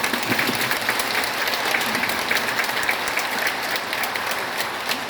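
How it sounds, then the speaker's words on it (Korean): A room of parish members at a Catholic church district leaders' meeting gives a steady round of encouraging applause, even and continuous with no talk over it. "부모로서 살아가는 나 자신에 대해서 격려의 박수를 한번 주시기 바랍니다"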